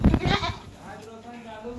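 Jamunapari goats of the Hansa line at a goat farm in Jaunpur, Machhlishahar, bleating in a few drawn-out calls close by, mixed with a person talking over the first half.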